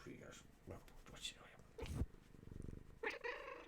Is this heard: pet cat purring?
yes